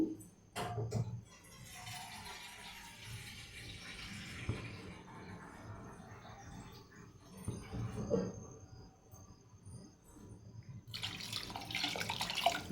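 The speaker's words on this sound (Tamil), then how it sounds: "கொஞ்சம் ஊற்றலாம் தண்ணி." Water runs and splashes steadily into a pot for radish sambar, with a few clanks and handling noises, fairly quiet and close.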